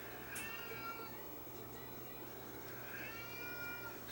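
A cat meows a few times, faint and somewhat distant, over a steady hum and background noise in a workshop where a Sony TC730 reel-to-reel tape deck is being repaired.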